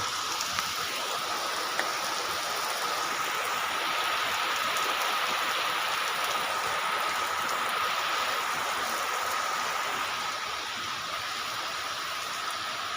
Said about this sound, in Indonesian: Hujan lur.